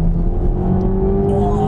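A 2020 Toyota Supra 2.0 accelerates downhill, its engine a close, steady droning rumble with a slowly rising tone, heard from inside the car and with no talking.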